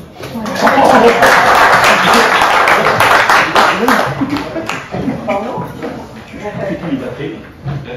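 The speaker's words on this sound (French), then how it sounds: "On peut applaudir." Applause from the audience at a French intercommunal ceremony celebrating a green gas project serving five communes; dense, loud clapping builds and holds for several seconds, then thins out as voices start talking over the last few claps.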